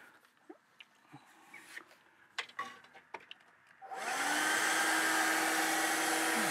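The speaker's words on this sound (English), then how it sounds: "while the window is all steamed and still wet, using a Karcher window vac" A Karcher window vac on a steamed, wet window: a few light clicks and taps come first, then the small motor starts abruptly and runs as a loud, steady close whirring drone.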